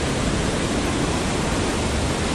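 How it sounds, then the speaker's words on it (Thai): Nang Rong waterfall in Nakhon Nayok roars as a steady, dense wash of falling water, loud and close, continuous without pause and with no voices. "เนี่ยน่าจะเป็นตัวน้ำตกน่าจะเป็นไฮไลท์"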